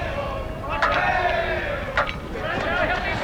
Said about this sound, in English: Crowd giving Sandy Deo a bit of a rise.